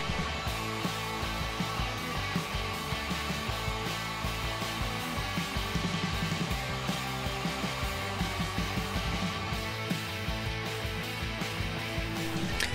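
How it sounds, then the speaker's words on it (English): Shop vac with a crevice tool sucking up dust beside a CNC router cutting a map puzzle, a loud continuous roaring whine mixed with the steady machining drone throughout. "Again, I use a crevice tool on my shop vac to capture the dust."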